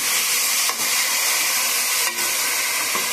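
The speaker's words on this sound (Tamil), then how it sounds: "ஃபைனலி சாப் ஆனியன். நல்லா வதக்கிக்கோங்க. சால்ட் போட்டு சேர்த்துக்கோங்க." Chopped onion sautés with salt in a hot pan, giving a loud, steady close-up sizzle and hiss, broken twice by brief scraping stirs.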